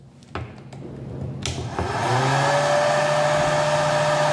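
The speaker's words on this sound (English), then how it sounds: "behave in the jet of air here, so from the hairdryer" A handheld hair dryer switches on and blows a steady jet of air, its motor whine rising and settling into a loud continuous roar with a high tonal hum, used to levitate a polystyrene ball.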